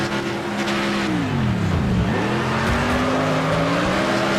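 A car in a racing video game roars at high revs while its tires squeal and skid, the engine pitch sweeping down and back up in one continuous loud blast with no voices.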